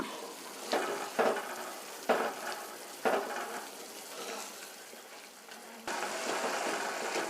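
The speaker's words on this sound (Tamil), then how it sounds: "அந்த பதம் வர வரைக்கும் இது நல்லா கொதிக்கட்டும்." Sugar syrup for rava laddu bubbles and simmers in a pan with a soft, steady hiss, broken by a few louder stirring scrapes, fairly quiet and close.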